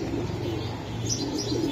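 Racing pigeons coo softly nearby in low, rolling murmurs, with a few brief higher chirps over a steady background hum.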